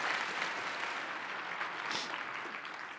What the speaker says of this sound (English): let's have another round of applause here for our speaker.